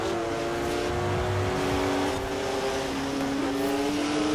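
A 2016 Porsche 911 racing in Forza Horizon 4, its engine holding a strong, steady tone with shifting pitch as it pulls, loud and close, with faint tire noise and no talking.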